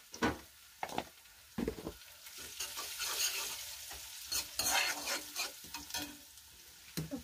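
Browned garlic fries in a pan as turmeric goes in, for a vegetable and dhal dish, with a soft sizzle under repeated scraping stir strokes, close and moderately quiet.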